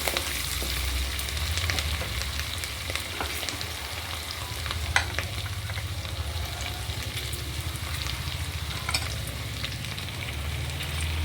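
Chopped green chillies frying for millet kichidi, a steady close sizzle with occasional stirring scrapes and small pops, no voices.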